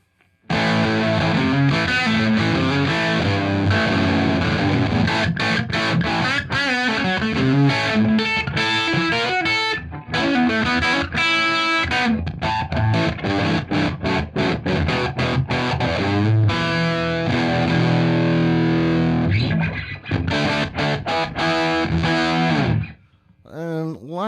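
Electric guitar through an Origin Effects Deluxe 55 overdrive pedal plays a continuous riff with gritty, distorted chords and single notes, loud and close, ending in a brief pause and a final strum.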